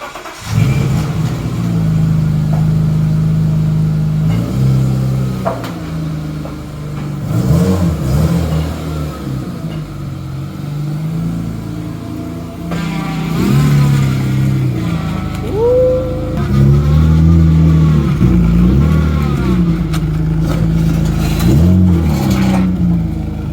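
A BMW E36 drift car drives off and revs hard, its engine rising and falling through repeated throttle blips, loud and close with no talk over it.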